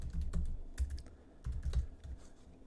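Close, quiet typing on a computer keyboard, a quick irregular run of soft key clicks with a couple of brief pauses, alone.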